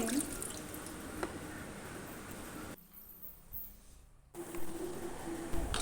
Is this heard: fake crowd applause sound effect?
no